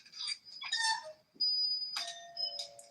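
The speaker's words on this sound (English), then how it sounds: "What alarm is that?" An electronic alarm sounds indoors with short, high chiming beeps in uneven bursts, sometimes a held tone, fairly faint and with no one talking.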